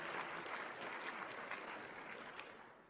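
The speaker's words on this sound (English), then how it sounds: "That's a clapping moment." Applause from the audience at the 33rd Annual National Student Symposium hosted by the University of Florida, a faint, distant wash of many hands that holds steady and then slowly tapers off.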